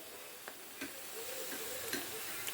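Cauliflower chilli pieces fry in oil with a soft, even sizzle. Light ticks and scrapes sound as the pieces are turned, fairly quiet and close, with no speech.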